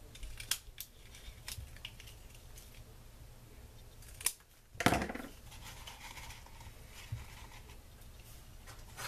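Scissors cut paper in a few sharp snips with some rustling between them, close and fairly quiet, with no talking.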